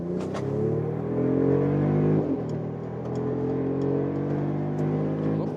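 A Mercedes G500 V8 accelerates hard in sport mode toward highway speed. The engine note climbs through a gear, dips briefly at a shift, then rises again. It sounds steady and close, with no talk.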